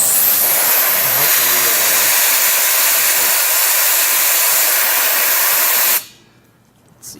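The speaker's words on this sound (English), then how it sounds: "I'm gonna go simulate we're riding. So I'm just gonna blow into the intake with this." Air is blown hard into the intake of a homemade automatic motorcycle chain oiler, making a loud, steady, close rushing hiss for about six seconds before cutting off abruptly.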